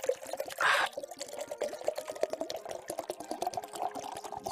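A drink is poured into a glass, a steady quiet trickle with a brief louder gush near the start, close by and with no talk over it.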